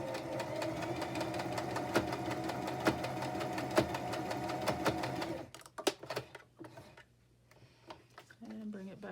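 A sewing machine runs steadily, its needle stitching through a journal with a fast rhythmic ticking for several seconds, then stops; afterward come a few handling clicks and soft rustles with a quiet voice.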